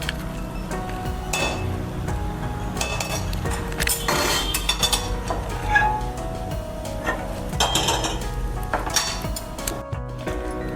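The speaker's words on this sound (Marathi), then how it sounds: "दुसरी कढई ठेवली." A cooking pot is lifted off the stove and a second wok set down while making sweet potato sweets, a series of metallic clinks, scrapes and knocks scattered across the stretch, close and moderate in level with no talk.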